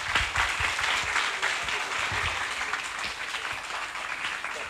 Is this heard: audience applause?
yes